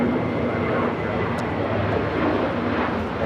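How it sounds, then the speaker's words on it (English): A Virgin Atlantic Airbus A350-1000 takes off from LAX on a flight to London Heathrow, a loud, steady broadband jet engine roar that fills the whole stretch without letting up. "This is Virgin Atlantic Flight 8 taking off to London Heathrow on the A350"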